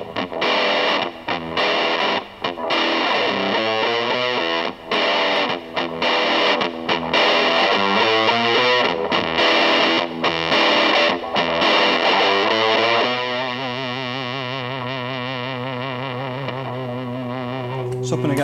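Electric guitar through a fuzz overdrive pedal, heavily distorted and loud, playing choppy chords and riffs with short breaks, then one long sustained note ringing out near the end; no voices over it.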